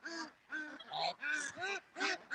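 Ducks quack at a pond in a run of about six loud, nasal calls at a steady, rhythmic pace, close by and clear.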